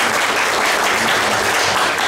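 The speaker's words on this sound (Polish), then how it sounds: "Jeszcze raz serdecznie brawo" An audience at a patriotic congress in Braniewo gives dense, steady applause, many hands clapping together loudly and evenly throughout without a break.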